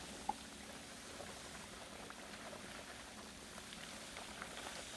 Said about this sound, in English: it's a lot of water getting pumped real quick.